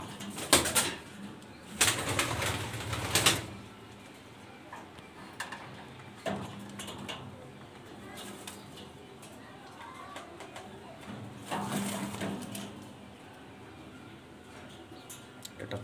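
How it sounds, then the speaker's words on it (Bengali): Maltese pigeons, a male Maltese and a female Danish Maltese, coo softly nearby, with occasional wing flaps and louder rustling bursts and intermittent talking throughout. "এটা একটা মালতেস নর কবুতর, ড্যানিশ মালতেস মাদি কবুতর দেখাবো"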